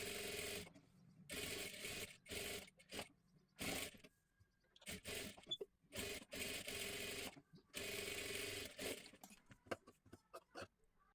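Sewing machine stitching the full back lining of a blouse, running in bursts of steady whirring separated by short pauses, close and fairly quiet with no talking.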